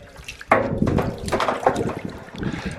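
Water runs and splashes into a galvanized tub for sheep, with bits of ice around, a close, loud gushing that surges at the start and churns on without speech.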